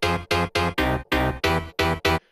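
A classic piano stab preset on a Rave Generator synth, struck eight times in a quick, evenly spaced run of bright, full chord hits with short gaps between them, loud and alone.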